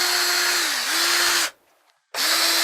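A medium reamer spins inside an EVA foam rod grip with a composite core, giving a steady close whirring drone that is broken by a short silent pause before the grinding resumes.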